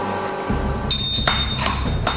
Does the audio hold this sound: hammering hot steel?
yes